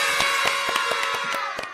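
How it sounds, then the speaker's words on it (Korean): Sustained applause from a small studio audience during an EBS radio show with ENHYPEN hosts, a dense steady patter of clapping with scattered louder claps, no talking. "와우, 오늘은 박수 좀 더 오래 치고 가죠."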